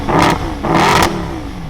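Mercedes SLS AMG with a 6.2-litre naturally aspirated V8, revved twice in quick, loud, close blips that each flare sharply and then settle back into a rough idle.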